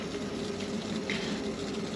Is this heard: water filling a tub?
yes